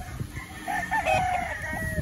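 A free-range farm rooster crows once, a strained, wavering call that rises and holds before trailing off, loud and fairly close over a steady background of outdoor hiss and low rumble, with no voices.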